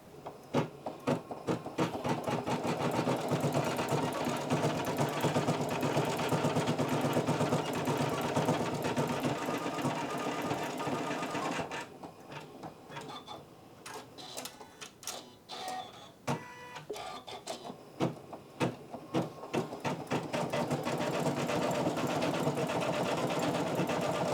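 A Janome CM17 embroidery machine stitches a built-in design with a steady, loud mechanical whir and a rapid needle rhythm. It pauses briefly midway into lighter clicks and taps, then resumes its continuous running.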